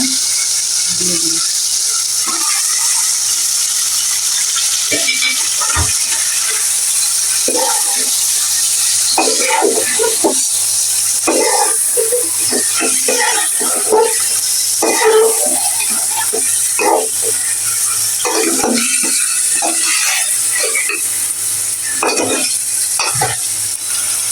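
Boal fish head pieces sautéed in a pan, a constant loud sizzle under repeated scraping and stirring strokes of a spatula, close by with no talking.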